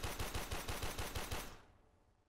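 Automatic gunfire in Warframe fires as an even burst of about nine close, punchy shots, then stops cleanly and leaves a fading tail, with no talking.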